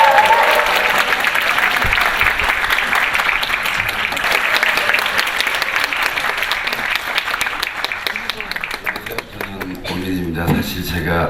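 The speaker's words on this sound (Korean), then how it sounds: "박수로 맞이해 주세요" An audience at a hairdressing trend show applauds to welcome a salon director onto the stage. The clapping is loud, dense and continuous, with a voice speaking over it toward the end.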